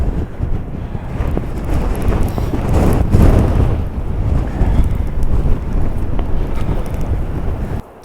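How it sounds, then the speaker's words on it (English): Strong wind during a snowstorm in Scotland buffets the microphone, a loud continuous roar with gusting surges throughout and no voices. "snow, sandstorms, wind."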